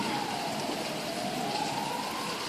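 Rain falls in a steady, even hiss of drops with no pauses, accompanied by a faint wavering tonal whine.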